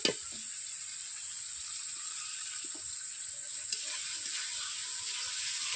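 Potatoes frying in oil in a pan, a continuous even sizzle held close and steady, with faint occasional taps and no talking.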